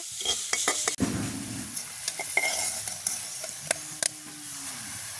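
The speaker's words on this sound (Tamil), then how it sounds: "பிரண்டை தொண்டை நல்ல வடிவாக நாங்கள் பொறிச்செடுத்துட்டோம்" Pirandai (adamant creeper) stems fry in hot oil, giving a soft steady sizzle punctuated by sharp metal clinks and scrapes of a spoon stirring the pan, close up, with no talking.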